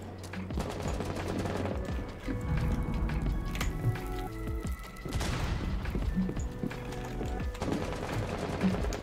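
Gunfire in the video game Rainbow Six Siege. Loud, dense bursts of shots and crackling run nearly continuously, layered with game effects and tonal sounds.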